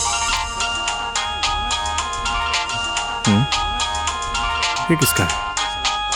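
A phone ringtone plays a steady electronic melody that repeats throughout, fairly loud, while people speak over it.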